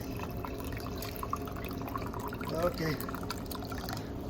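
Steady water pouring and splashing from the drain outlet of a Rheem hot water tank being flushed, a continuous rushing flow with a low hum underneath.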